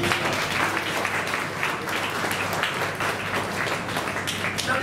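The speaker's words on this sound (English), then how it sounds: "Could you please join me to give the Fujifilm a big round of applause" An audience applauds at the Fujifilm X-T30 camera launch in Malaysia, steady clapping from many hands filling the room at moderate loudness, with no talk over it.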